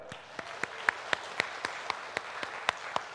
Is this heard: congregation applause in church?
yes